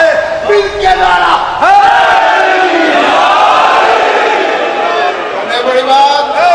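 At a Shia religious gathering honoring Khadija, a large crowd roars back a slogan in loud unison, a sustained wall of massed shouting that swells and fades over several seconds.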